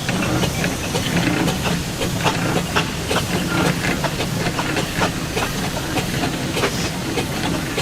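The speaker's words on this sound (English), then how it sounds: "This type of engine is called a showman's engine because it was used in the fun fair." A steam showman's engine once used at fun fairs to generate electricity hisses steadily at a steam rally in Parham, a continuous loud breathy rush with faint ticking clatter throughout and no talk.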